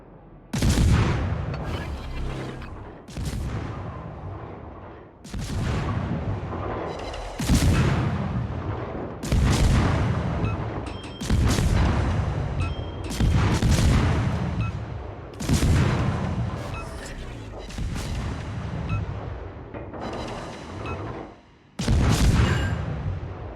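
Front guns of a French destroyer in a naval warfare game fire in repeated heavy booms, about one salvo every two to three seconds, each a loud crack that rolls off into a long rumbling decay.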